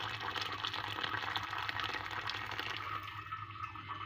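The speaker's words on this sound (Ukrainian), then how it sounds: "зараз знову заливаю літром кипяченої водички" A litre of boiled water pours into a soup pot for rassolnik, a steady gushing splash that runs for a few seconds before easing off, faint and close.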